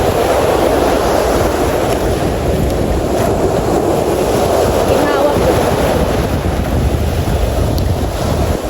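Large sea waves crash and roar steadily, with heavy wind buffeting the microphone throughout.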